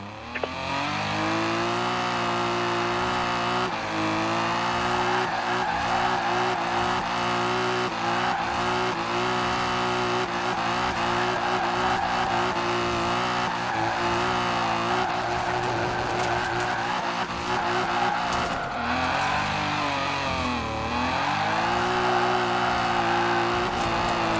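A car drifting in the racing game Forza Horizon 4 holds a steady, loud engine drone with shifting revs and high tire squeal streaks throughout, continuous and up close with no talk.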